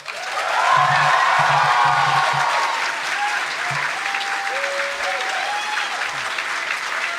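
Sustained applause from a convention closing-ceremony audience, loud and dense from the start and holding steady throughout after a community charity fundraising announcement, with a few scattered whoops above the clapping.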